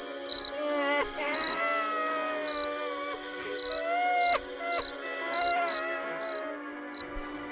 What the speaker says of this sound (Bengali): বাঁশঝাড়ের পেছন দিকে যেখানে একটানা ঝিঝি ডেকে চলেছে